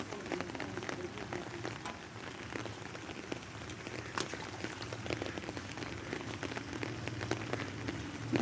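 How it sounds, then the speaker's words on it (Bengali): Steady rain pours down outdoors beside a house under construction near a border guard camp canteen, a dense continuous patter with scattered louder drips, no voices. "এই যে বাড়ির কাজ চলছে, কিন্তু বৃষ্টি হচ্ছে"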